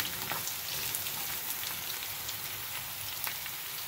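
Chopped onion, garlic and ginger frying in olive oil, giving a steady, dense crackling sizzle throughout with small pops, close and continuous with no voices.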